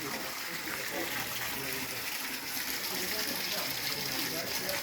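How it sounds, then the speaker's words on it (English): Water gushes steadily from an opened tap, a loud continuous broadband rush that holds without pause throughout. "That's the water, the tap we have opened up, and monitoring how water is coming out."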